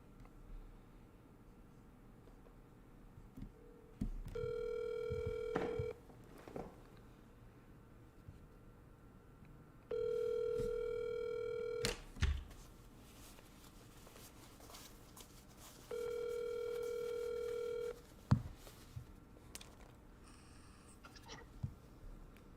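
Three long, steady tones in a quiet room, like ringback from a phone line while a call goes through, each lasting a second or two with long gaps between them and faint handling noises around them.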